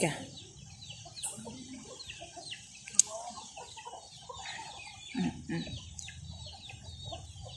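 Chickens cluck and squawk in scattered bursts, with a sharp click partway through and murmuring voices in the background.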